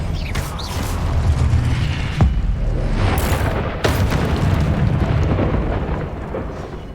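A Confringo blasting spell explodes in Hogwarts Legacy, with heavy booming blasts and sharp cracks over a rumbling, mechanical bed of game sound, loud and close throughout.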